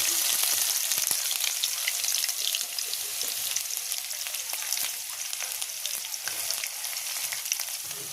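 Sliced onions sauté in hot oil with bay leaf and cinnamon for a paneer gravy, making a dense, loud, continuous crackling sizzle up close, with occasional sharper pops and no talking.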